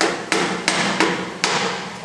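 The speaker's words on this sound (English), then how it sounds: "With the heavier wrench, tap" Four sharp metallic taps of a heavy wrench against a glass drilling machine part, spaced roughly a third of a second apart, close and distinct.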